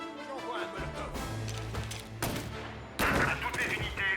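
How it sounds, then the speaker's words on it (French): Bursts of gunfire from the heist video game Payday, loud, with rapid shots and sharp impacts over a steady background of game sound and effects. "À toutes les unités, on me signale des coups de feu."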